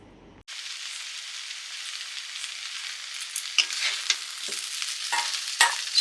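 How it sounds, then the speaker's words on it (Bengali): Drumsticks (sajne data) frying in a pan, a steady close hiss of hot oil with scraping stirs and a few sharper crackles toward the end, with no talking. "সজনে ডাঁটা ভাজা"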